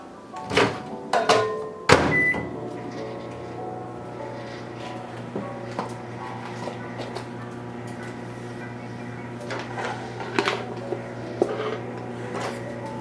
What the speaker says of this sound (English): I'm just going to put that a little bit in the microwave real quick,